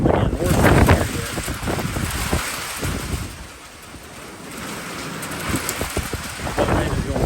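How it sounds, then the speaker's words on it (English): Heavy rain pours steadily during a severe spring thunderstorm in southeast Ohio, with gusty wind, a constant broadband wash, and louder surges early and late; a person talks intermittently over it. "That rain is going on."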